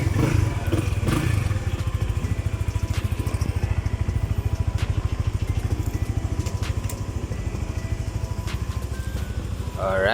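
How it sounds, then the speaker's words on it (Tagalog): A Honda Winner X motorcycle engine runs steadily in first gear with its rear wheel spinning, a loud, close, rhythmic chugging with light mechanical clatter throughout and no talk. "so karon ato suwayan og first gear para makita gyud ninyo nga motuyok gyud ang ligid"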